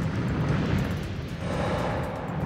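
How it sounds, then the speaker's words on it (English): A deep, rumbling blast as a rogue planet's rings strike Earth's atmosphere and the particles burst into flame, a sustained roaring low boom that churns steadily with a slight swell midway, loud and without voices. "Air friction makes the particles explode into flame."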